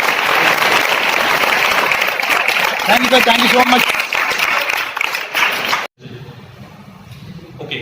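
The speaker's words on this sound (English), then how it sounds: "Put your hands together." Students in a school hall clap loudly and continuously for several seconds as someone speaks over them; the applause cuts off abruptly near six seconds, leaving quieter room sound and talk.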